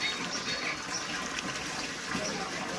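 Continuous hiss of water running from a tap, steady and moderately loud throughout, with no pauses.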